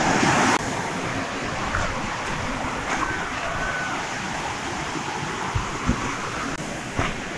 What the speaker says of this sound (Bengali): ওই পাশ থেকে দেখা যাচ্ছে পানির স্রোত, পানির ঢল অনেক জোরে নামছে